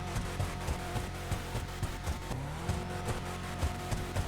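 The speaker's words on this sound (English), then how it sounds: "It is kind of a standard, like, aggressive rip in GTA." A new car in GTA, the Canis Terminus, revs aggressively and accelerates, its engine growling with rhythmic pulses and a rising pitch sweep midway. It is fairly faint and heard alone, with no voices.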